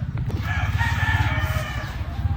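A rooster crows, loud and close, in one drawn-out call over a low, rumbling background of steady noise.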